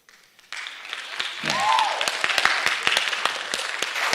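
Audience members at a school district board meeting break into clapping that builds from a quiet start into steady, sharp applause, with a brief voice rising over it.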